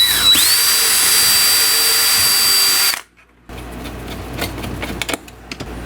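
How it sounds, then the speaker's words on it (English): A power drill whines loudly, spinning up and holding a high steady pitch for about three seconds before stopping, followed by quiet handling noises. "let me drill a hole there and put another screw in"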